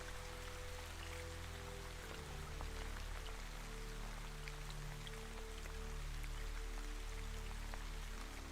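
Rain falls outside at a cold, rainy fair, heard as a soft continuous patter with scattered drop ticks over a low sustained drone that stays even throughout.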